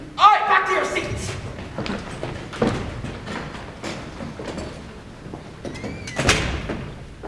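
A heavy stage door swings and shuts in a theatre production of The Breakfast Club, giving a sharp knock and a later thud amid shuffling, bumps and the noise of a live performance.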